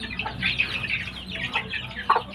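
A breeding hen of a Thai fighting chicken line, a Phet Daeng and Yod Pradu Tao Fai cross, gives a run of soft, repeated clucks at close range.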